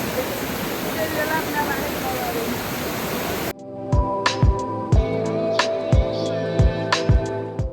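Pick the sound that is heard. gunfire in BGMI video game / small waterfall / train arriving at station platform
small waterfall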